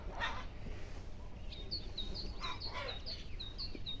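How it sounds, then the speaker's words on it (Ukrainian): Outdoors in a village in spring, a small bird sings a series of short, high chirps at moderate distance over a low background rumble, with no one talking. "Десь пташка виспівує."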